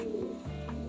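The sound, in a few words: pigeon cooing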